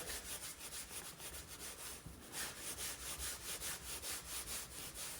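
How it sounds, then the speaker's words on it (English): A cloth wipes isopropyl cleaner back and forth over the white paint of a 2023 Tesla Model 3, close rhythmic rubbing strokes in an even repeated pattern, no talking. "take your favorite isopropyl cleaner and go ahead and clean the area"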